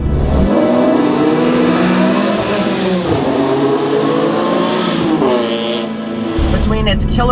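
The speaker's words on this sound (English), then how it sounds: "its incredible exhaust note as you just heard" A 2004 BMW E46 M3 engine revs hard, its exhaust note rising and falling through several loud, sustained pulls, close up, with a voice talking over part of it.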